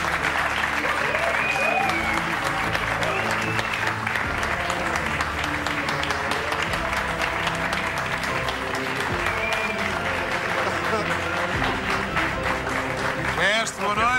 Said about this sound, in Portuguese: O vosso aplauso para o maestro António Raminhos de Almeida